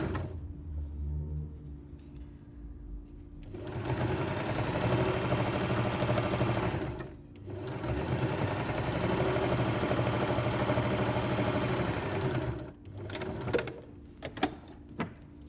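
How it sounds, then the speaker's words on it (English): A sewing machine top-stitches along the edge of a fabric strap in two long, steady whirring runs separated by a short pause, close and fairly quiet. "top stitch all down that edge, so you've got a nice"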